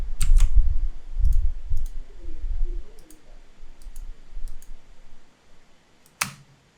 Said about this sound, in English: Double click on the text.